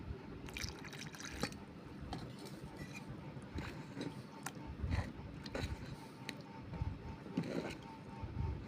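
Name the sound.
water poured into batter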